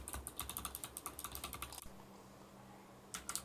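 Rapid, steady keystrokes on a mechanical keyboard fitted with Kailh Box White switches, clicky and close, typed alone in a quick rhythm before stopping, then a brief final burst of taps.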